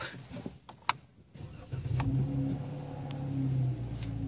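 A 2014 Dodge Challenger cranks and fires up from inside the cabin, with quiet clicks before the engine catches and settles into a low, steady rumble that grows slightly louder toward the end.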